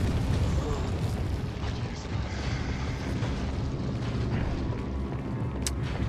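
A frag grenade blast in Resident Evil 4 on PS4: a dense, rumbling boom with sustained low roar and debris noise that stays loud across the whole stretch, with no clear single onset.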